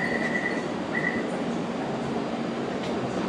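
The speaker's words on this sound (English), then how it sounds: "we are going to ride this train again" Interior of a Taipei metro train in motion: a steady, loud rumble with a whining hum from the car, and a couple of brief high tones near the start, with no talking.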